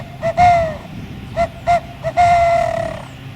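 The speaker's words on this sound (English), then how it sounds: "That's the sound of an owl." An owl hoots in the early morning spring bush, giving several short, clear tonal calls in an uneven rhythm and then one longer drawn-out hoot, fairly close and distinct over a quiet background.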